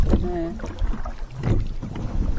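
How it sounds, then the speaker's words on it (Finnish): Wooden rowboat being rowed on a lake in spring just after the ice has gone, with water sloshing and oar sounds under steady wind noise while people talk. "Ja mennään oikein perinteisesti soutupaatilla."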